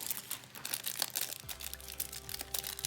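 Crinkly plastic wrapping on a trading card box being unwrapped, with rapid crackling and rustling bursts close to the microphone, continuous throughout the short stretch.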